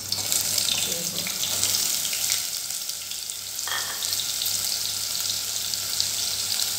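Soybeans go into hot oil in a home kitchen pan, giving a steady, fairly loud sizzling hiss that runs throughout with a few faint stirring clatters.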